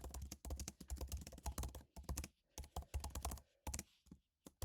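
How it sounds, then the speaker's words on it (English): Typing on a computer keyboard: rapid bursts of clicking keystrokes with short pauses, close and clear with no talking. "I'm going to type in my question."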